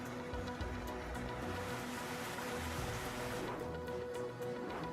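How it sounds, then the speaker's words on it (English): Icy water rushes down a flooded street north of Milan during a hailstorm, a steady, dense wash of churning water and splashing with no speech. "A stream of icy water flowed down the street as hailstones pelted the area."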